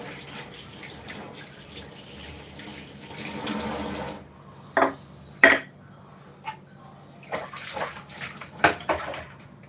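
Running water flows steadily while brass pooja vessels are washed, then cuts off, leaving scattered clinks, splashes and handling knocks close by.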